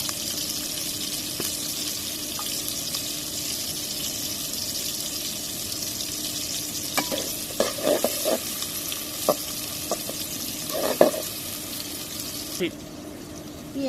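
Onions sizzling in a pan, lightly frying before meat is added, under a constant hiss, with scattered scrapes and clinks of stirring growing busier toward the end.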